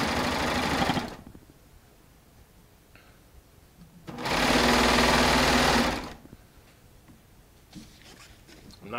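A Baby Lock Triumph serger, a four-thread overlock machine, runs through Shannon Cuddle fabric in two loud, steady whirring bursts, with a quiet pause between them.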